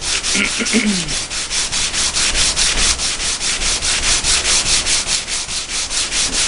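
Sandpaper rubbed back and forth along a steel knife blade in fast, even strokes, loud and close, roughly three strokes per second, with no speech.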